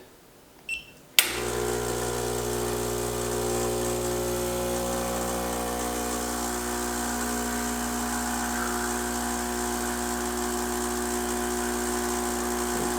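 A Magic Tumbler motorized coffee distribution tool switches on with a sharp click and then runs as a steady, loud, close mechanical hum and whir that holds unchanged to the end, with no talking.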